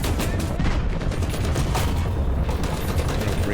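Tank machine gun fire in the War Thunder video game, a dense continuous burst of rapid shots with booming impacts, loud and unbroken throughout.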